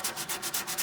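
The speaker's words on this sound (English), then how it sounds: "I'm sanding down the filler" Rhythmic back-and-forth sanding strokes on body filler on a classic Mini Cooper, close and steady, about six quick rasping passes with no voices.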